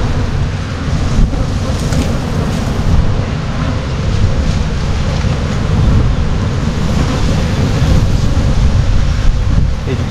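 Wind gusting across beehives in an October apiary makes a steady, broadband roar that stays fairly loud and continuous for the whole stretch, with no voices over it.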